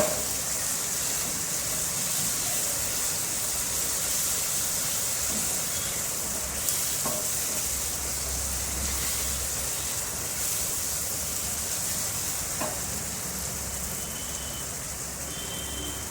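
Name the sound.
tempering spices frying in oil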